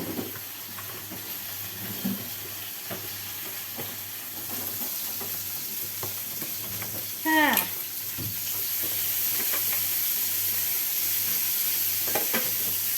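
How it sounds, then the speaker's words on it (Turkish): Steady sizzling and frying hiss from food cooking on a stove, with faint clatter and a brief squeaky sound partway through. "Ya ocakta da yemeğim var. Sesi geliyor size."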